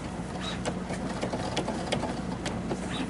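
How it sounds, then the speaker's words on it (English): A sewing machine runs slowly in reverse, stitching a zipper onto a fur pillow, giving a steady close mechanical whir with faint rhythmic ticking throughout. "Sewing on that line"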